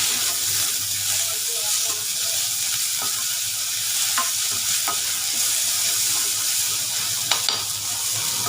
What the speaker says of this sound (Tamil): அதுவும் சேர்த்து இஞ்சி பூண்டு விழுது வாசனை போகிற அளவுக்கு கொஞ்சம் வதக்கிங்க